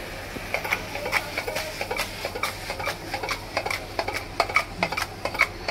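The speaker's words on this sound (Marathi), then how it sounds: "चिकन टाकून घेतल्यानंतर हे चिकन मी कुकरमध्ये कसं मिक्स करून घेते बघा" Repeated soft squelching and scraping as raw chicken is mixed by hand inside a metal pressure cooker, in an uneven steady rhythm.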